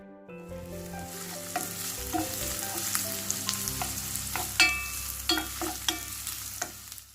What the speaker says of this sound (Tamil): வெங்காயம் ஆட் பண்ணி ஒரு 5லேருந்து 6 நிமிஷம் நல்லா வெங்காயம் நல்லா செவக்க வதங்குற அளவு